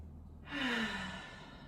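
A single slow, audible exhale during a yoga forward fold, soft and close, rising then tapering off over about a second in a quiet room.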